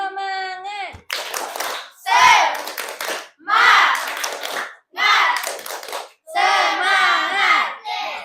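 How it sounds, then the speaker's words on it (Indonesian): Classroom children doing a rhythmic cheer clap, with bursts of clapping and loud chanted, shouted young voices in short repeated phrases, separated by brief pauses, close and lively. "Lagi tepuk semangat"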